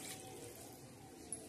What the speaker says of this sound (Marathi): गरम पाणी असं त्याच्यावर सोडायचं आहे